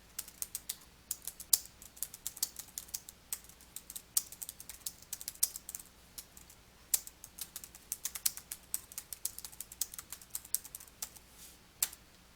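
Keys clatter on a computer keyboard as text is entered into a Word document, irregular bursts of crisp close clicks with short pauses, steady over a quiet room with no voices.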